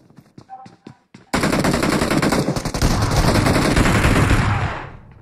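Gunfire in the mobile shooter PUBG Mobile: a few sharp separate shots, then a loud, sustained barrage of rapid firing that fades out at the end.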